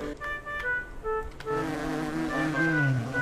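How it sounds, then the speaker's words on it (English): Buzzing bees in the Hungry Lamu video game, a steady insect drone with tonal game sounds that thickens and grows louder halfway through, with no talking. "Ouch! The bees stung me everywhere!"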